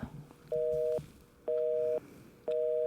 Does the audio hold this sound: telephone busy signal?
yes